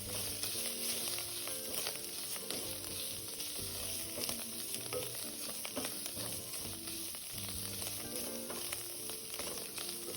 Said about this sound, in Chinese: 一起拌炒均匀。